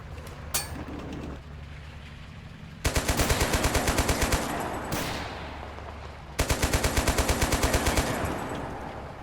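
Vehicle-mounted machine gun firing in the video game Total Conflict: Resistance, two loud sustained bursts of rapid rhythmic shots, preceded by scattered single shots and background game ambience.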